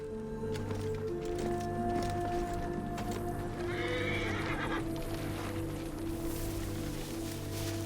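In Assassin's Creed Origins, a horse whinnies and hooves clop steadily over a constant droning background, with a brief rustle partway through.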